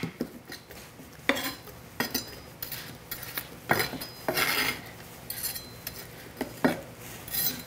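Scraping and clinking as an ingredient is scooped with a utensil into a blender during Korean cooking, in several separate rasping strokes with light knocks, close by and fairly quiet, with no talk.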